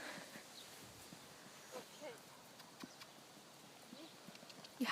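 Horse hooves clip-clop softly and irregularly on ground during dressage training of a mare named Sille, with scattered step sounds, while people talk quietly.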